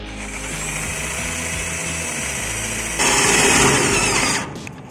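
A power driver spins a screw into hollow steel tubing to mount a Hikvision CCTV camera, a steady whirring mechanical whine that grows louder and harsher as the screw bites, then stops abruptly.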